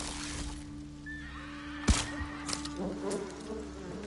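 Horses neigh in Ghost of Tsushima, one sharp whinny standing out midway against a steady background hum, with a few softer snorts and hoof-like sounds following.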